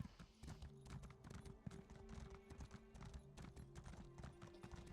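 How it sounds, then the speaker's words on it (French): Horse hooves clip-clopping in a steady trotting rhythm while riding in The Elder Scrolls Online on the Morrowind island, close and fairly quiet, with faint neighing and little talk. "Donc je vais avec mon cheval qui va pas vite à l'autre bout de l'île."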